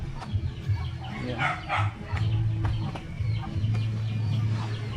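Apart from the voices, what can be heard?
chickens clucking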